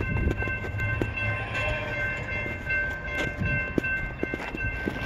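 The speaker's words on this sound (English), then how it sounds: "we got a train coming" A CSX freight train, I-138, rolls past in Lowellville with a steady, loud mechanical rumble and rail noise that fills the whole stretch, occasional clanks and squeals standing out over the continuous roar.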